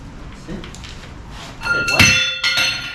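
A large Audi A4 front panel bolt with a massive washer is pushed into place during VW Caddy engine work, giving several metallic clinks and a ringing knock close by, with faint speech in the background.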